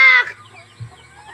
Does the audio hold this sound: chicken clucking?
yes